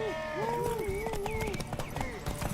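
Horse hooves clip-clopping at a gallop in The Witcher 3 video game, a steady rapid rhythm running under shouted voices and a neigh.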